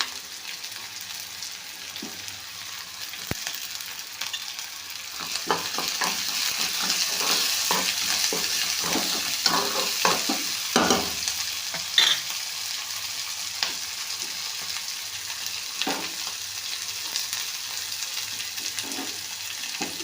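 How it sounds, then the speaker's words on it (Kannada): Chopped green chillies frying in a pan, a continuous crackling sizzle with repeated scraping stirs and spoon taps close by, growing slightly louder after the first few seconds and carrying on steadily with no talk. "ಈಗ ಮೆಣಸಿನ್ಕಾಯಿ ಹಾಕ್ತೀನಿ ನೋಡಿ ಕಟ್ ಮಾಡಿರುವಂಥ ಮೆಣಸಿನ್ಕಾಯಿ"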